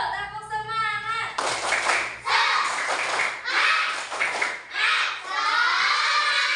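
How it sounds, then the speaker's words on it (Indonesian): A school class does the rhythmic 'tepuk semangat' clap in several loud, patterned bursts of hands clapping together, with children's voices chanting and shouting between and over the claps and a teacher's voice at the start. "Semangat dulu, tepuk semangat."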